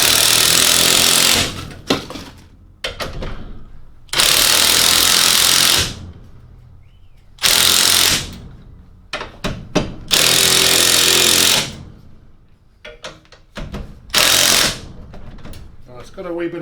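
Several loud bursts of a power impact tool tighten a Koni shock absorber on a Volkswagen VR6, each burst a few seconds long with clanks and handling noise between them and no talking.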